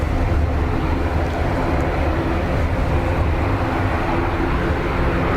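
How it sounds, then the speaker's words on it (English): An ATR turboprop airliner roars loudly and steadily at Dublin Airport in windy, wet weather, a dense, continuous drone with no break. "Angry ATR on the way."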